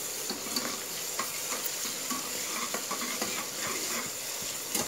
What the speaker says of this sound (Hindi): हमें यहाँ पे अपने प्याज को थोड़ा सा भूनना है